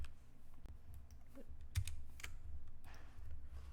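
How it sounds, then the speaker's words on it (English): Keys clack on a computer keyboard while code is typed, scattered soft taps at an uneven pace with a few sharper strikes, quiet and close against a low background hum. "So you're gonna want to type in function."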